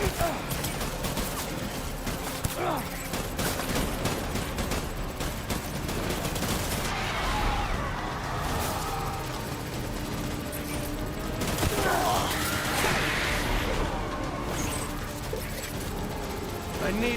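Airsoft BB gunfire rattles in dense, continuous bursts for over fifteen seconds, close and loud, with shouting voices breaking through in places.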